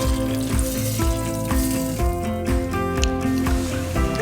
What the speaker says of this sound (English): after the ghee is super hot, we will pour that over our chana masala